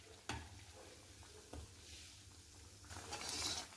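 Moth dal kachori fry in hot oil as they are flipped, giving a soft steady sizzle with a few quick clatters and splashes from the turning, faint and close, with no talk.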